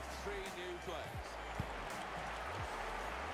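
Stadium crowd roaring steadily in a FIFA 18 football match, a dense, continuous wash of cheering filling the background alongside a few thuds and ball-bounce-like knocks.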